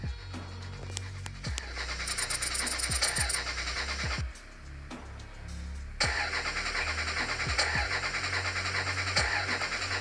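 Car engine in the Car Parking Multiplayer game repeatedly cranking without catching after the motor overheated, a steady mechanical whir with a high whine that cuts out and resumes, loud and close, no speech.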